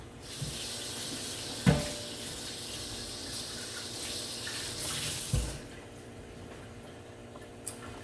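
Steady running tap water splashes over a pot lid being rinsed in a kitchen sink, with a couple of sharper clanks as the lid is moved, close and moderately loud until the flow cuts off near the end.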